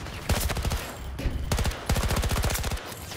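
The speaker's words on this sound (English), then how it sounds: "This SMG is insane." Rapid bursts of SMG gunfire in Battlefield 2042, several close, loud strings of shots with brief pauses between them, with no talk.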